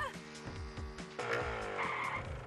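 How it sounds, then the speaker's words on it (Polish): An out-of-control go-kart in an animated cartoon, tires squealing and skidding in long rising screeches, with a voice present beneath the sound. "Nie panuję nad go-kartem, nie chcę się zatrzymać!"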